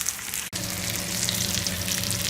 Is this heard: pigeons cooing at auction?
no